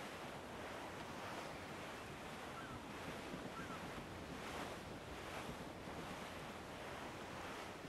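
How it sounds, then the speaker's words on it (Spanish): Wind and ocean waves at sea in the Assassin's Creed IV video game make a constant dense roar, with surf rising and falling softly under a rushing wind and no voices. "Ah, el azote del viento en mi cabello. La fragancia del océano me reconforta."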